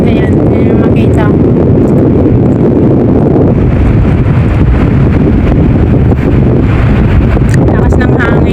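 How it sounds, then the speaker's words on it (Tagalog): Strong wind buffets the microphone near a yacht on the water, a loud continuous rumbling roar throughout with no letup. "Sobrang lakas ng hangin."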